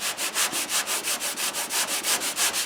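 Sanding block rubbing primer along a car's body line, steady rhythmic back-and-forth strokes, close and continuous with no talk.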